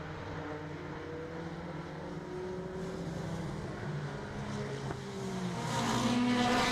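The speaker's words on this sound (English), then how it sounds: "for those of you at home wondering why these cars are getting a couple of warm-up laps" 2.1 modified stock cars lapping an oval track on warm-up, a distant steady engine drone that swells toward the end as cars draw nearer, no voices.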